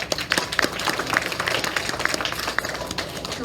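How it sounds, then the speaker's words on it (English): An audience claps for graduating fifth graders at a 2021 commencement ceremony, a steady patter of scattered hands with a few sharper individual claps standing out, moderately loud and with no talking. "We're still gonna clap for these guys."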